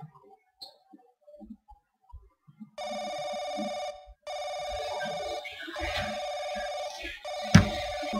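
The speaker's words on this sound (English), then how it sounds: "whenever the phone rings" A telephone rings in the horror video game The Crooked Man, a steady electronic bell repeating in long bursts with brief gaps, loud and close, after a stretch of near silence with scattered faint clicks.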